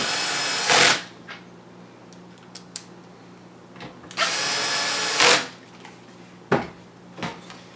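A cordless power drill drives four screws back into a Scuderia Audio hi-fi adapter fitted to a Ferrari 360/430, two loud whirring bursts of about a second each, separated by quieter clicks and short trigger blips.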